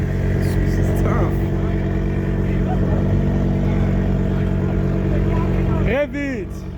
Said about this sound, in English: Can you rev it?